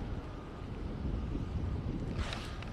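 Wind blows outdoors in cool evening air and buffets the microphone as a steady low rumble throughout, with a brief hissing gust near the end and no one talking.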